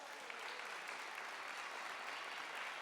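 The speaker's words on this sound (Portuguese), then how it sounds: "Pode aplaudir isso." A church congregation claps steadily after a sermon about repentance, a dense, even wash of applause filling the whole moment without pause.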